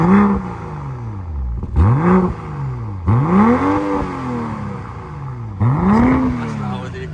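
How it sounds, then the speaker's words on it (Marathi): A sports car's exhaust in sport mode, heard from outside, booms and crackles through four rising rev sweeps with popping backfire bursts, loud and close, with a person talking at times. "गाडीची जो एअर क्रिएट होतो त्यातून जो फटाके फुटतात त्याचा गडगड आवाज आहे"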